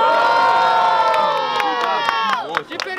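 Loud crowd at a student rap battle in Guarulhos cheering and shouting together, with whoops and children's yells, the din holding steady for about three seconds before dipping briefly near the end.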